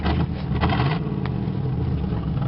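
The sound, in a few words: 1986 Cutlass Supreme engine idling rough after cold start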